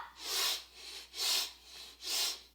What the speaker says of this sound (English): Breathing in 3 sniffs, out in 1 strong sound.